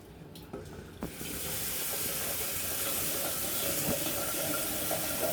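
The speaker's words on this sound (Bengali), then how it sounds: "আমি চালটা ধুয়ে নিচ্ছি সুন্দর করে, যাতে চালের মধ্যে কোনো ময়লা না থাকে।" Rice is rinsed under running water, a steady close hiss and rush of flowing water that swells in after a couple of light knocks at the start.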